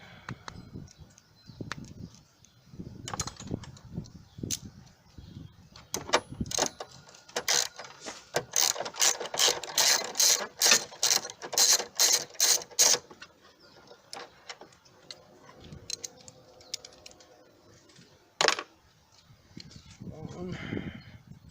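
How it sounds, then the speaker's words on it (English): A ratchet wrench removes the side mounting bolts on a 2017 Nissan Altima 2.5L during a power steering pump replacement. A steady run of quick, close clicks comes in the middle, with scattered clanks and brief low talk around it. "I'm going to continue to take these mounting bolts out of here on the side."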